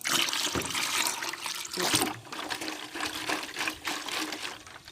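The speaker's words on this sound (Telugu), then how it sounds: "ఇలా మనం బియ్యం కడిగిన నీళ్లు తీసుకొని ఇవి కూడా ఒక దాంట్లో పోసేసుకుందాము" Water left over from washing rice pours into a container to feed plants, making a steady splashing gush close by that swells and dips in pulses. No one speaks.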